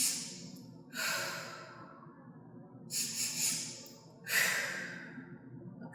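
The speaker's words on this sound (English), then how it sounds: "Deep breath cycles in, deep breath cycles out." Deep breathing during a pregnancy breathing exercise: three slow, close breaths, each a breathy inhale or exhale lasting a second or more, separated by quiet pauses, with no speech.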